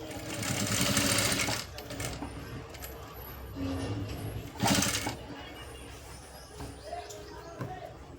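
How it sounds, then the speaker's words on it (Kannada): A sewing machine stitches piping onto a blouse, its steady whirring hum running throughout with brief pauses and surges, while a person talks over it. "ಇಲ್ಲಿ ನೀಟಾಗಿ ಇಲ್ಲಿನೇ ನಾವು ಹೊಲಿಗೆ ಹಾಕಬೇಕು"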